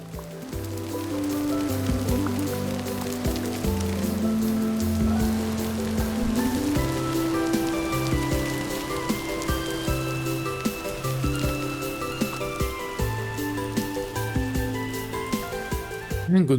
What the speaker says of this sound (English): Unfortunately, it's still raining